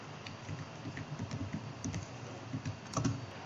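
Keys tapped on a computer keyboard as a hex color code is typed into photo editing software, a quick irregular run of close, light clicks with a slightly louder cluster near the end.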